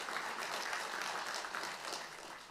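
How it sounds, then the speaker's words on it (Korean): Faint, distant audience applause at a Korean inaugural assembly ceremony, steady soft clapping from a hall crowd for the whole stretch. "박수 부탁드려요"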